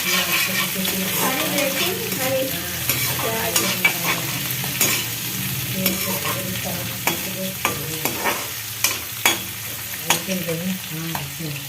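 Peas, green onion and chili fry in a kadhai with a steady, loud sizzle, while a spoon stirs through them in repeated scraping strokes that sharpen toward the end.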